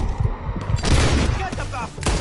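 Gunfire in Red Dead Redemption 2: loud, rapid overlapping shots in a dense fusillade, with booming reports and a rumbling low end throughout the short burst.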